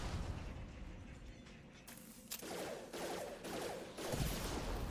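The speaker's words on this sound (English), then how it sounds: "I'm gonna switch over to the submachine gun because it's better for" Submachine gun fire in Mass Effect 2, a quiet stretch giving way to repeated rapid bursts and booming impacts in the back half, mid-distance and fairly loud.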